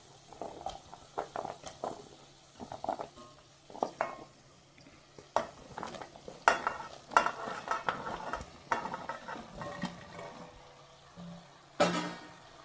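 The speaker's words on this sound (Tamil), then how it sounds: "நல்லா வதங்கி வருது." Vegetables for Karnataka-style bisi bele bath sauté in a pan. Repeated spoon stirs and scrapes break up a soft, steady sizzle. The sounds are close and uneven, with no speech.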